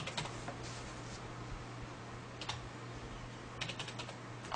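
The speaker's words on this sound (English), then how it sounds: "I'm going to type in 123." Keys clatter on a computer keyboard in a quiet room, with a few short bursts of typing separated by pauses over a faint electrical hum.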